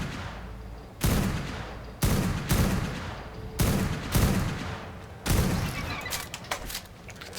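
Gunfire echoing in a big cave in a video game: five or six heavy booming shots about a second apart, each with a long reverberant tail, fairly close and loud.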